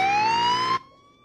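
An ambulance siren wails loud and close in a steady, slowly rising tone, then cuts off abruptly, leaving a faint hum behind.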